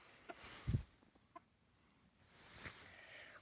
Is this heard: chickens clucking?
yes